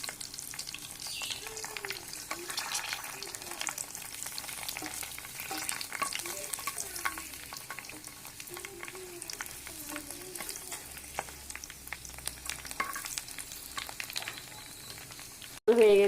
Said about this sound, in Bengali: তেল গরম হয়ে গেছে, এখন দিয়ে দেবো একটা করে, দিয়ে ফুচকাগুলো ভেজে নেব